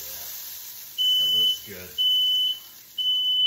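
A smoke alarm goes off while pork chops cook in a kitchen, sounding three evenly spaced shrill beeps about a second apart, loud and close, with a voice speaking between them.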